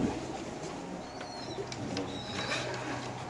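Pigeons at a busy pigeon market, caged in pairs for sale, cooing softly and steadily under a dense murmur of market noise, with a few faint higher chirps rising over the crowd.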